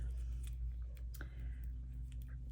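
Scissors trimming paper that overhangs a craft tag: a few soft, close snips and crisp cuts over a quiet low hum, with no talking.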